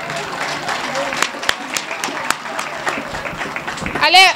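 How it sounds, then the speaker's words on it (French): Applause at a graduation ceremony after a health training course: a steady crowd of hands clapping throughout, fairly loud and close, with some voices audible under it. "Un applaudissement pour lui."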